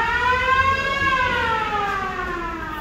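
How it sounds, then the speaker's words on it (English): A theater organ's fire siren effect in the Senate Theater, Detroit: a wailing siren tone swells up in pitch and then slowly winds down, steady and fairly loud, with nothing else heard. "You had stuff like there's a fire siren."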